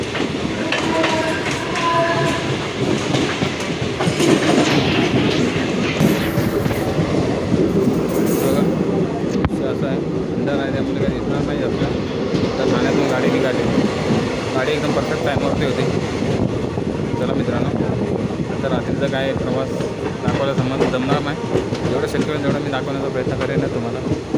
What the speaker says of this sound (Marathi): मित्रांनो ठाण्यावरून आता गाडी निघाली